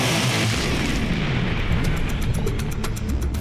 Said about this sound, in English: Its sole purpose in life is to fire things out of its funnel using compressed air